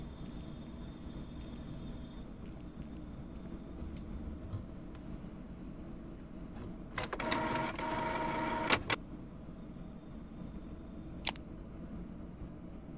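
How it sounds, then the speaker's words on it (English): An office printer in a meeting room runs for a burst of about two seconds, a mechanical whirring feed with a steady buzz, then stops. Quiet room hum surrounds it, and a short click follows later. "printer in the meeting room"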